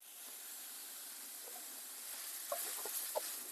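Ingredients for Kadalai curry sauté in a pan with a soft, steady sizzle and hiss, joined near the end by a few light stirring clicks against the pan.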